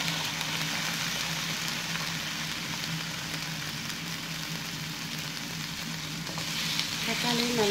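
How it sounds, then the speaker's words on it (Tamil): Onions and tomatoes fry in a pan for bread upma, giving a steady close sizzle and hiss throughout with a faint clatter of stirring toward the end. "வெங்காயம் நல்லா இந்த மாதிரி ப்ரௌன் கலரில் வதக்கிடணும். இப்போ நம்ம எடுத்து வச்சுருக்க தக்காளியும் போட்டுக்கணும்."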